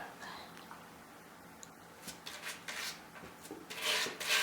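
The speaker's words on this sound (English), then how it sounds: "it files the nails down better" A dog's nails filed down with a flat sandpaper board, with soft intermittent rasping strokes that grow denser and louder toward the end, quiet and close.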